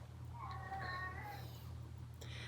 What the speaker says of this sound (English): You can hear why his name is Sergeant Meownstein